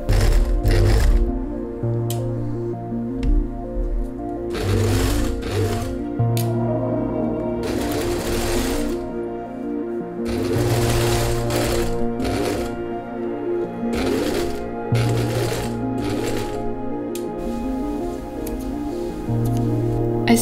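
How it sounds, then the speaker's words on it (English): A sewing machine stitches velvet dress panels together, its needle running in steady rhythmic bursts that start and stop repeatedly, close and clear with no talk. "Sewing all parts together, I made sure to sew as neatly as possible. This can be tricky with velvet"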